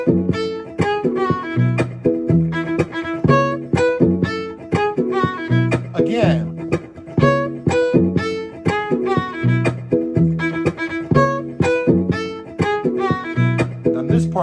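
Violin playing the chorus of a song in a play-along lesson, a steady run of bright, rhythmic notes over a continuous backing track, loud and close with no talking.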